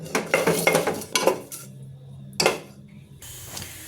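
Bay leaf and green chillies are stirred in oil in a pot for vegetable biryani, giving a series of metallic spoon scrapes and clinks against the pot, several close clatters, then a faint hiss.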